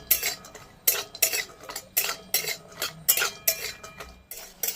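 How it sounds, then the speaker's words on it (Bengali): Chopped cashews lightly fried in a pan, heard as repeated metallic scraping and stirring strokes of a spatula against the pan in a steady rhythm, close and moderately loud, with no talking. "যে কাজুগুলো কুচি কুচি করলাম এতক্ষণ বসে বসে ওগুলোকে ভেজে নিই হালকা করে"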